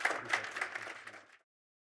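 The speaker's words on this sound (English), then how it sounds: "Round of applause." Audience applause at a fintech summit, a brief scatter of handclaps from a modest crowd that stops abruptly after about a second and a half.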